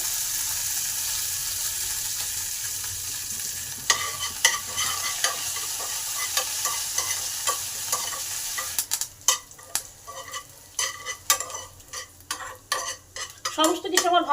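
Spices and curry leaves crackle and fry in a pan for a chutney tempering. A soft sizzle gives way to busy, rapid metal stirring and scraping clatter in the second half. No voices.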